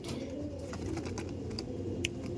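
Andhra pigeons, a breeding pair, give low, soft cooing calls against a steady background murmur, fairly quiet and continuous, with a few faint chirps.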